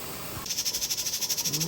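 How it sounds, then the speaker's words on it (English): Steam vents from a pressure canner loaded with small potatoes, a close, loud hiss that starts partway in and pulses in a fast, even rhythm. "you want the steam coming out like that for about 10 minutes"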